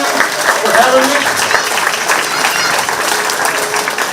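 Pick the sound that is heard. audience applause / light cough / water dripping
audience applause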